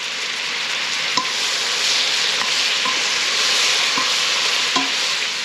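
Meat browns in a hot pan for a jambalaya, giving a loud, steady sizzle and hiss, with occasional scrapes and taps of a utensil stirring it, close up and without speech.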